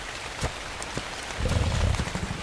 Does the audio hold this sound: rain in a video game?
yes